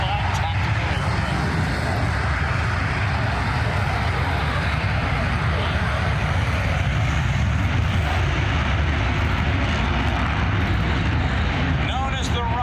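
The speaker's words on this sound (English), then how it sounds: "West Coast FA-18 Super Hornet flight demonstration" A US Navy F/A-18 Super Hornet from VFA-122 flies a demonstration at the Thunder over Michigan airshow: a loud, continuous jet roar that fills the scene and swells toward the end, heard at a distance through open air.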